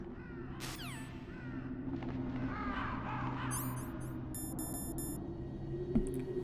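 Crows cawing in the video game Metal Gear Solid, harsh calls rising over a steady game background hum, with bright electronic beeps and tones later on.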